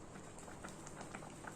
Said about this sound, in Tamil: இப்போ இது ஒரு 2 நிமிஷத்துக்கு நல்லா கொதிக்கட்டும்.